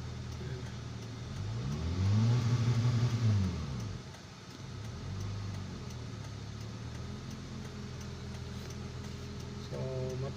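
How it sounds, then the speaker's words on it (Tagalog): A car engine with a faulty RPM gauge revs to high RPM, the drone swelling early on, easing back, then holding a steady hum, with faint talk in the background. "Pakinggan nyo lang guys yung makina, dahil yung RPM nya sira yan"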